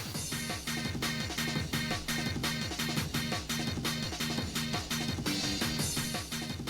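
Rave Generator synth stabs in a happy hardcore pattern, the same chord notes doubled an octave lower, hammer out loud and steady over a driving kick beat with no voices.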